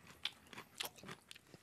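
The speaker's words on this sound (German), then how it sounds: "ich esse die erste Pfefferoni, die grüne" Crunchy bites and chewing of a green hot pepperoni pepper, several close, crisp crunches spaced irregularly with quiet gaps and no talk.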